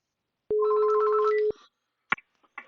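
A VoIP softphone placing a call to internal extension 1000 gives one steady ringback tone lasting about a second, with a melodic ringtone layered over it, then a few short clicks and faint noises afterward.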